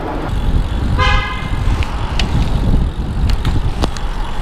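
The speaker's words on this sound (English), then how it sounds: "Guy blowing his horn at me" A passing car honks at a cyclist on a road, a single short, bright horn blast, amid wind rush and traffic noise with a few brief clicks and rattles following.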